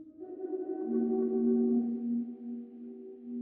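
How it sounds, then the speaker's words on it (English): A space piano synth patch from a composer toolkit plays a soft, sustained low tone with a gentle swell and shimmering overtones, fading slightly as it rings out alone. "Space piano."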